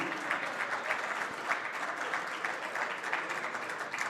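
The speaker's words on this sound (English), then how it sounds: "If you got a hand, give them a nice hand." Steady applause from an audience at a pool league world championship awards ceremony, a dense, even wash of many hands clapping that holds without a break for about four seconds, with no talk over it.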